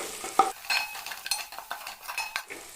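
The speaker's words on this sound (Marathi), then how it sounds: "आता यामध्ये टाकते लाल मसाला आणि हळद हे पण छान मिक्स करून घ्यायचं" Red chilli masala and turmeric being stirred into a river crab curry, with a spoon scraping and clinking against the pan in quick uneven strokes over a soft sizzle, close and fairly quiet.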